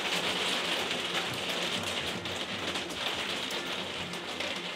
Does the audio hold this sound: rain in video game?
yes